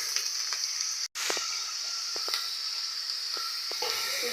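Chili, onion and garlic fry in hot oil toward light brown with a bright, constant sizzle. Scattered sharp stirring clicks sound through it, and it cuts out for an instant early on.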